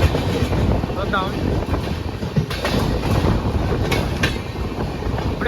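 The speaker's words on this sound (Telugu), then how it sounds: "ఇప్పుడే భువనేశ్వర్ ఎక్స్ప్రెస్ అయితే వెళ్ళింది చెన్నై సెంట్రల్ నుంచి" The Bhubaneswar Express from Chennai Central rushes past on the opposite track, a loud continuous roar and rattle of rolling carriages heard from inside another moving train near Sullurupeta, with wind buffeting throughout.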